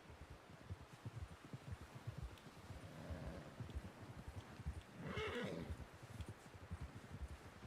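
Horse hooves beat a steady, rapid clip-clop under a whinny in Red Dead Redemption, close and continuous, with wind rushing past.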